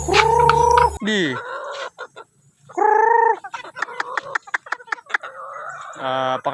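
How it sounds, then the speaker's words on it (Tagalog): Backyard chickens and a rooster make loud, close squawks, clucks and a crow-like call during feeding, with scattered sharp pecking clicks between calls. "Pakain-kainin lang natin mga kaparsyal yung ating mga manok dito."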